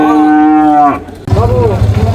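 A Friesian cow at a traditional cattle market lets out a loud, close, drawn-out moo, followed by a short rougher lowing call.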